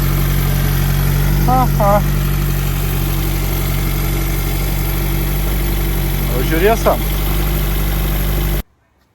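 A rebuilt car engine idles with a steady, loud hum and low rumble, someone speaking briefly over it twice before the sound cuts off abruptly near the end.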